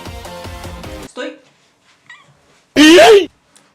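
A cat meows once, loud and close, with a sharply rising and falling wail, after a stretch of music and a few quiet voice fragments.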